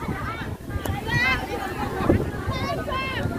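Strong wind gusts buffet a tent being pitched, rushing and flapping unevenly close to the microphone while people talk over it.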